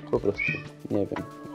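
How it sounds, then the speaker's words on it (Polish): A house cat meowing in the background behind someone speaking Polish, with several drawn-out meows rising and falling across the short stretch, fairly close and mixed with his talk. "zobaczcie, słychać mojego kota pewnie w tle"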